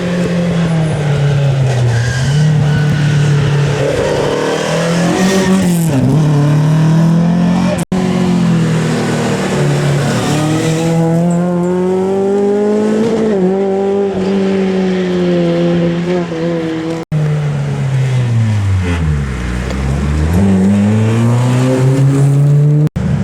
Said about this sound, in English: Right, car coming.